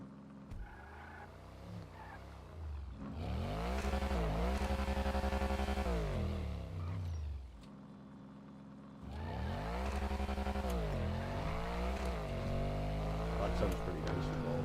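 A video game car engine revs up and down in two long bursts with rising and falling pitch, loud and close, with a quieter idle between them.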